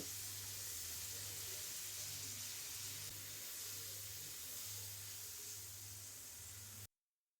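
A little water poured into hot oil with spices while cooking mustard hilsa sends up a steady, even hiss of sizzling steam over a low hum, then stops abruptly.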